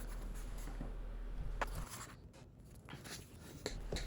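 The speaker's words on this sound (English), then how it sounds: "So I'll go ahead and fold and crease the rest of these pages." Paper pages for a homemade sketchbook are folded and creased by hand, giving soft scraping and sliding strokes with a few sharper crisp creases over a low steady background hum.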